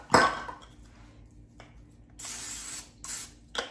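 Several short hissing bursts of cooking spray into a muffin cup, close by, separated by pauses, with a faint clink at the start.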